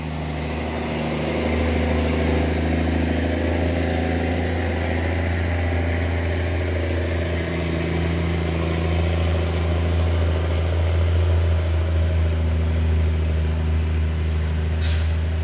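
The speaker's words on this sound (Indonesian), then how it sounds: "ada truk Fuso Oren 6x2 gagal menanjak" An orange Fuso 6x2 truck struggling and failing to climb a hill gives off a heavy, close, continuous low engine drone that swells slightly after the opening seconds and holds steady for a long stretch.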